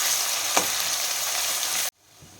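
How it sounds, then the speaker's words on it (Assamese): Chopped onion with crushed ginger and garlic hiss loudly in hot mustard oil, a steady close sizzle with a brief scrape, cutting off abruptly near the end into quieter room tone. "এতিয়া মই তেলত দিম এয়া কাটি লোৱা পিঁয়াজ আৰু এয়া আদা নহৰু খুন্দি লোৱা"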